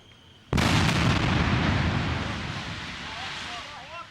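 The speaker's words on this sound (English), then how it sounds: "Israeli airstrikes have been pounding Gaza." An Israeli airstrike on a building in Gaza sets off a sudden, massive blast that erupts out of a quiet background and rolls on as a long, heavy rumble that fades slowly, with faint whistling tones near the end.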